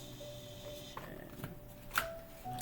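Tarot deck being shuffled by hand, a soft, faint stream of papery card rustles and riffles with a few sharper flicks and taps, close by and with no talking.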